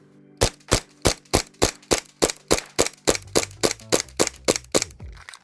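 Airsoft pistol built from a 1911 lower with a Glock upper fires about fifteen sharp, evenly spaced shots in a steady rapid rhythm, loud and close, with no talking.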